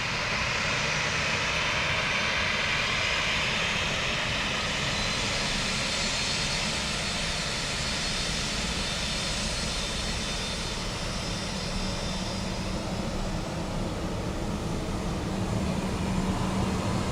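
At Dublin Airport, an aircraft engine roars steadily for the whole stretch, a loud continuous jet-like wash that swells slightly and stays broad and sustained, with no talking.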